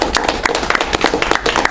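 Brief, close scattered handclapping from a small audience at a poetry reading, a quick run of sharp, uneven claps lasting under two seconds.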